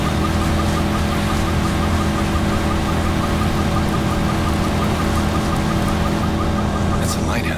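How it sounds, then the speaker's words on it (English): Steady rain falls at night in the Watch Dogs video game, a dense continuous wash with a low rumble beneath and speech over it. "Rain, dark, crashing into the borders."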